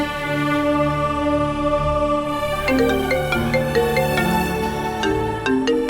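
Phone ringtone playing as a steady melodic tone pattern, loud and close, with no talk over it.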